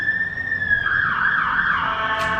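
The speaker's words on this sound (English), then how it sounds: "there's loads of sirens" Emergency vehicle sirens wail loud and close, sweeping in pitch as they pass by outdoors, with no voices over them.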